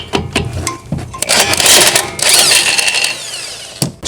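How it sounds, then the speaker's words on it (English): A power tool loosens the 17mm sway bar nut on a Subaru Impreza RS during a lift kit install. A few short, loud whirring bursts build into a sustained rattling spin, then a final brief burst. "now we're going to remove our sway bar nut"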